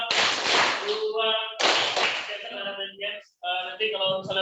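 Bursts of clapping from a group of children in a classroom-style activity, sharp claps in short clusters alternating with sung or chanted voices, fairly close and loud.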